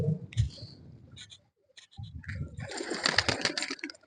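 Pigeons coo in short, soft bursts while being fed, close by, broken by a brief quiet gap, with faint talking underneath.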